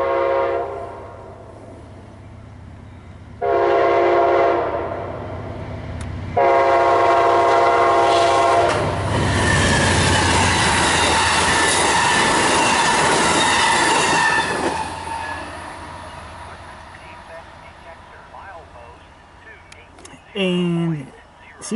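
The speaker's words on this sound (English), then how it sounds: "it's an Amtrak train" An Amtrak passenger train rumbles past with clattering wheels, preceded by two long horn blasts; the roar swells and fades as it moves away.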